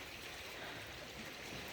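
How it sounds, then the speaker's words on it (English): Water flowing out from a rock in a natural park near a beach, a constant broadband rushing wash like a small stream or cascade, steady and unbroken without any voices. "Water coming out from the rock."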